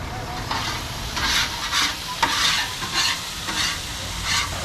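Meat for lomo saltado sizzles and is stirred in a pan at a campsite, a steady frying hiss broken by repeated scraping strokes, close and loud with no talking.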